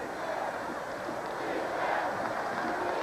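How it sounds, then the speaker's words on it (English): A college football stadium crowd at the 1986 Stanford versus California game roars steadily, a dense, loud, continuous wash of cheering that swells slightly midway, with a voice faintly underneath. "The crowd certainly has gotten into the game."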